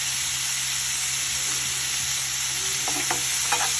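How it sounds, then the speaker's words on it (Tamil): Tomato and green gram mixture sautéing in a pan for tomato chutney, giving a steady, loud, close sizzle throughout, with a few light stirring scrapes near the end. "சேர்த்து எல்லாம் ஒன்றா வதக்கிக்கலாம்."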